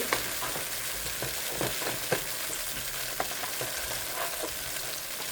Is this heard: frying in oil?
yes